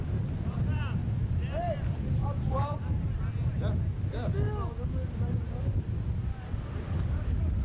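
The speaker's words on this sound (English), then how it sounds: "It is windy today." Steady wind rumbling and buffeting against the microphone at a high school baseball game, with faint distant voices and crowd sounds underneath.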